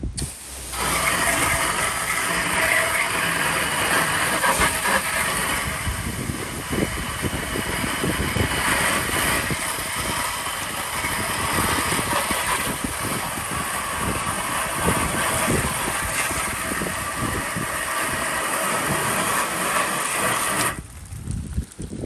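A pressure washer with a high-volume soap tip sprays soap across the metal siding of a building, a steady, loud broadband hiss with a motor drone underneath that runs unbroken for about twenty seconds before cutting off.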